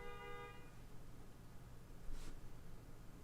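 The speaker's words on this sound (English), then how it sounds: "I'm gonna go see what the fuck they're honking about." A car horn honks outside, heard faintly and muffled at the start over steady background noise, followed by a brief rustle.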